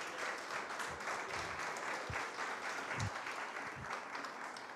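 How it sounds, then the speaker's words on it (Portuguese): A church congregation applauds the name of Jesus during a service, a sustained, even rain of many hands clapping, somewhat distant and soft, with no talking. "aplauda o nome de Jesus."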